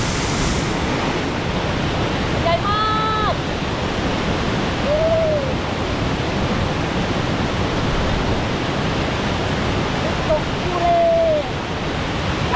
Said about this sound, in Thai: น้ำเย็นมากน้ำก็จะไหลลงไปสู่ข้างล่างนะ